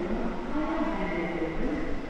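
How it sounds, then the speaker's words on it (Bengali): The 22309 Howrah–Bhagalpur Vande Bharat Express at platform 2 of a station gives a steady, moderately loud rail rumble with a faint background hum. "আর এই যে আমাদের ট্রেন দিয়ে দিয়েছে 22309 হাওড়া ভাগলপুর বন্দে ভারত এক্সপ্রেস, 7:45 2 নম্বর প্ল্যাটফর্মে।"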